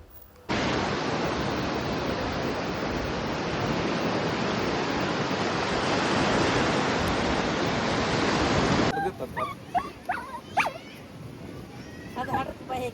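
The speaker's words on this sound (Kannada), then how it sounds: "ಆ ಅಲೆಗಳ ಶಬ್ದಗಳನ್ನು ಕೇಳಿ" Sea waves at a beach in Goa make a steady, dense roar of surf for most of the time, then fade behind scattered voices and a dog's barks.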